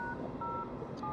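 A telephone being dialed, with a short run of DTMF keypad tones sounding faintly over a low steady hum.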